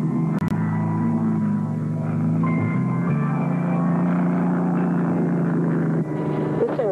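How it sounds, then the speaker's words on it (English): A Bellanca Super Viking with a 300 hp Continental engine drones steadily and loudly throughout, a continuous propeller-engine hum with no voices. "Airplane which I fly in air shows is the Balanka Super Viking, powered by a 300 horsepower Continental engine."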